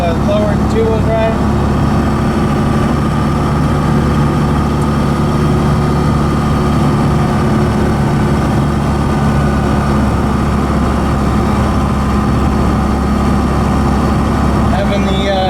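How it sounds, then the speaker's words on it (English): A 4BT Cummins diesel engine in a Ford F150 with exhaust fitted drones steadily as a loud, constant low rumble heard from inside the cab, with a faint intake whistle and a person talking over it. "Having the exhaust on here really quieted down the turbo. I only hear the whistle from the intake."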